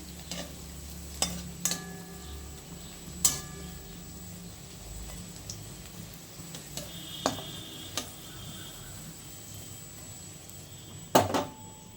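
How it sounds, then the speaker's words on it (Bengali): Cucumber peel fritters frying in a pan of oil, a low steady sizzle broken by occasional sharp clicks and taps of a utensil against the pan, close and fairly quiet with no voices. "এই দেখুন, আমার বড়াগুলো ভাজা হচ্ছে।"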